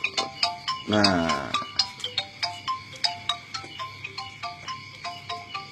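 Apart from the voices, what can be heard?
mobile phone ringtone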